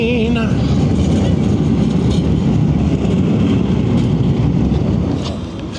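A train rumbles past close by, loud and continuous, with rattling wheels and a brief squeal at the start.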